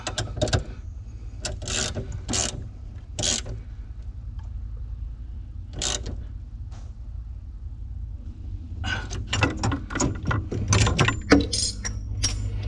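Ratcheting socket wrench clicking in short bursts while being worked on an Aqua Hot heating system thermostat in an RV, sharp close metallic clatters separated by pauses, with a denser run of rapid clicks near the end.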